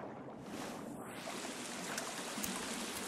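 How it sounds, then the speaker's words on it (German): Steady broadband rush of a waterfall in the survival video game The Forest, a constant, fairly loud wash of falling water that fills the clip with no pauses and no voices. "Ja, der Wasserfall, genau."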